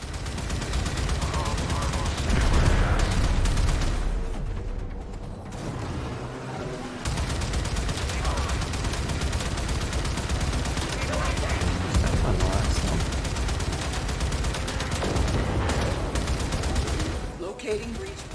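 In the video game Warframe, a dense barrage of gunfire and torpedo launches roars continuously with rapid bursts and booms, loud and close, with brief lulls and a voice talking underneath.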